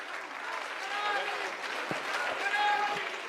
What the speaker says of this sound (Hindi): एक बार जोरदार तालियों से उनका स्वागत करेंगे